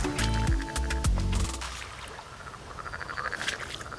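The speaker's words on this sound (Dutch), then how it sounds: "Zo, die zijn flink aan het kwaken, man." Several frogs croak loudly and close by in repeated rhythmic bursts, with the calls thinning into a faint chorus toward the end.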